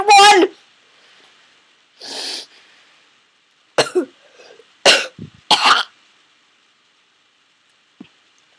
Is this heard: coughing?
yes